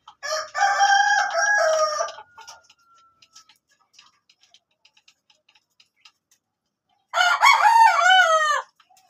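Boston Roundhead gamefowl rooster crowing twice, loud and close, with a near-silent stretch and faint ticks between the two crows.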